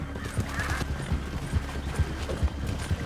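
Horse hooves clip-clop in a steady, fairly close rhythm with a whinny in Red Dead Redemption 2, a Wild West video game.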